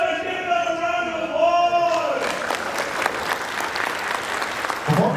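Applause breaks out at a charity auction after a lot sells, a dense crowd of clapping that swells from a sustained tone into loud, steady hand claps filling the room.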